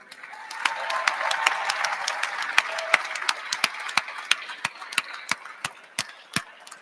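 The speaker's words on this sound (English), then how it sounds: "So, round of applause for Tim Washi leading us all year long." A crowd applauds at a celebration of a university men's hockey team's first national championship. Dense, steady clapping swells and then thins into fewer, sharper individual claps over about seven seconds.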